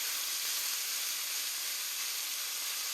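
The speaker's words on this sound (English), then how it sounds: "we are going to drop in our steak. Alright. You hear that good sear?" Steak searing in a very hot pan for fajitas, a dense, steady, bright hiss of sizzling fat heard close and unbroken throughout, with no voices.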